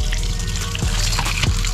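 Pork intestines are rinsed under running water in a kitchen sink. A steady splashing trickle is heard close up, with a couple of brief gurgles from the water moving over the intestines.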